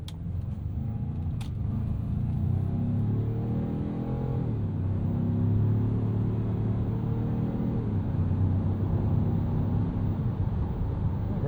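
A 2025 Ford Maverick Lobo turbo compact truck in normal mode pulls away and accelerates steadily through its gears, engine rumble rising and falling in pitch with each shift, heard from inside the cab with no talking.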